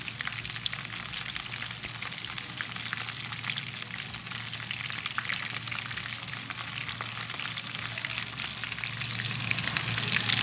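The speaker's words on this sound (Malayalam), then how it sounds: "അപ്പോൾ ഒരു മീഡിയം ടു ലോ ഫ്ലെയിമിൽ ഒരു ഭാഗം ഒരു 4 മിനിറ്റോളം ഒന്ന് ഫ്രൈ ചെയ്തെടുക്കട്ടെ." Chicken pieces for chilli chicken fry in oil over a medium-low flame, a dense, continuous crackling sizzle with fine popping throughout, growing slightly louder toward the end; no voices.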